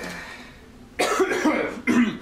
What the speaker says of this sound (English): Why do you keep coughing, though?